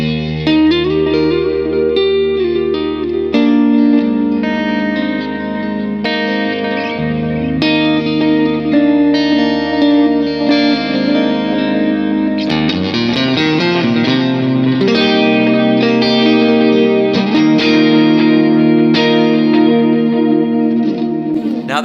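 An electric guitar plays dreamy chords and single notes through a tapped-in delay effect. Repeats, chorus and reverb wash behind each note, and the echoing tones ring on steadily and fairly loud.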